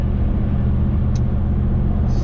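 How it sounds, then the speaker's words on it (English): An LS V8 engine in a car gives off a steady, loud low-frequency rumble that carries on without a break while the vehicle cruises on the road. "the LS rumble"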